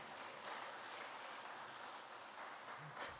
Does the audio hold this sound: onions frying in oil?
no